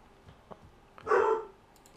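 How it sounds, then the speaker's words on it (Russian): A dog barks once inside an apartment, a single short, fairly loud burst standing out against quiet room background with faint clicks before it. "собака у меня лает"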